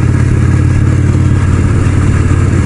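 A 1972 motorcycle, built in 1971, runs loud and close, its engine holding a steady, dense rumble with a clattery edge and no voices over it.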